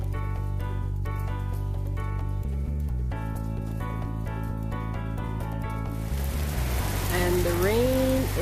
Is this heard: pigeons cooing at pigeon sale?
no